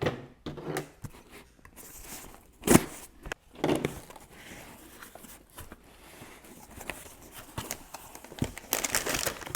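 Bubble wrap from a mail delivery box of baseball cards is handled up close, with irregular crinkling and rustling, a few sharp louder bursts, and quiet gaps in between.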